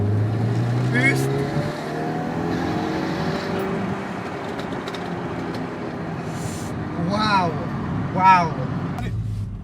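An Audi S3 with antilag accelerates hard in third gear, its engine note climbing steadily under a voice, with sharp pops and crackles near the end.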